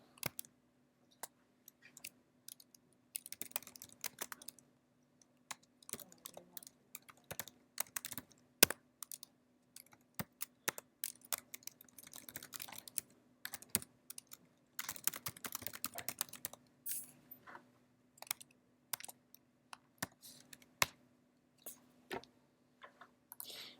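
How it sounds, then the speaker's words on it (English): Computer keyboard typing as Go code is entered: irregular bursts of close, crisp key clicks with short pauses between runs, no voices, over a faint steady hum. "So I could maybe try typing that from memory."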